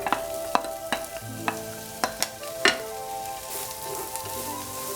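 Chopped onions stirred and frying in hot refined oil for a Kerala-style paneer curry, with a steady sizzle and repeated sharp clinks of a spoon against the pan.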